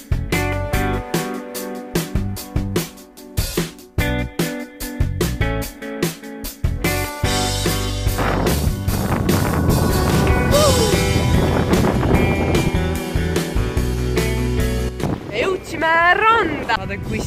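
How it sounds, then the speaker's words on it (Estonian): Wind and fairly large waves around a sailboat rocking at sea off Croatia, with water splashing; choppy bursts of wind buffeting and sloshing give way to a sustained rushing roar, with some brief tonal sounds near the end. "Tuul on tõusnud, suht suured lained on ja me kõigume siin päris palju ja vett pritsib ka."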